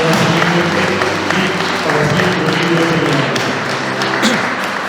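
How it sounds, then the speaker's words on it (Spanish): Applause fills a church wedding ceremony, a dense, steady clapping that stays loud and even for the whole stretch, with faint tones of music or voices beneath it. "Nuevamente un fuerte aplauso para nuestros hermanos"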